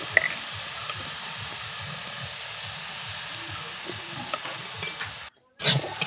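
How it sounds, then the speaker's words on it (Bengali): Leafy greens stir-fried in a pan with garlic, chili, salt and turmeric give off a soft, continuous sizzle, with scraping stirs and small clatters mixed in, followed by a short pause near the end. "রসুন আর লঙ্কা ফোড়ন দিয়ে একটু শাকটা দিয়ে নিলাম, দিয়ে একটু নুন হলুদ দিয়ে নেড়ে চেড়ে ভেজে নেব।"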